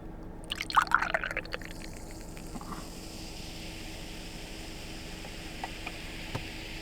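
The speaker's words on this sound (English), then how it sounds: "Let's pour it out." Root beer soda pouring out of a can into a glass: a brief splashing gush near the start, then a soft continuous fizz of settling bubbles, quiet and close.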